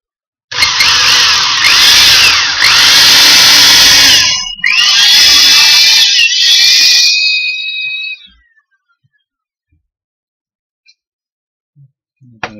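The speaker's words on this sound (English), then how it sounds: "So off we go. We can start to drill." A power drill bores into wood for a windmill bearing block, running loud and close in two long bursts with a brief pause between them, then winding down to near silence.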